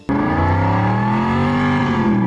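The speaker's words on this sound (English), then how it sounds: "There is something to be said about the captivating rev of a Mustang engine." A Mustang sports car engine revs loud and close, a sustained throaty roar whose pitch rises and holds steady after an abrupt start.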